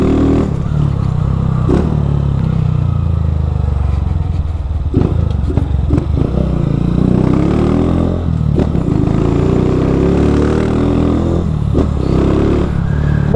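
A Honda Fan 160 motorcycle with a Dore exhaust rumbles and revs continuously up close, its engine note rising and falling with occasional rattles and clatter.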